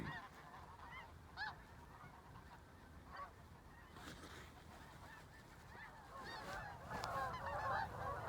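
A flock of snow geese honks at a distance, scattered calls growing into a busier, louder chorus of overlapping honks toward the end.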